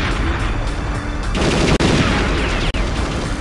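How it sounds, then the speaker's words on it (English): Sustained burst of gunfire in the video game Perfect Dark, a dense loud rattle of rapid shots running throughout, with two brief sharp cutoffs partway through. "They're shooting Elvis!"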